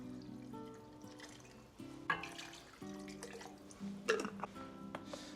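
Vegetable stock pours into a pot holding beets and potato, a soft, steady liquid stream with small splashing spikes, fairly faint and without talk.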